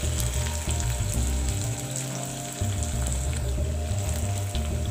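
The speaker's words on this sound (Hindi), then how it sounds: "अब मैं अनियन को तब तक फ्राई करूंगी जब तक ये थोड़ा सा रेडिश ना हो जाए।" Chopped onions fry in a hot pan with a steady, dense sizzle that holds close and fairly loud throughout, with faint crackles and no one talking.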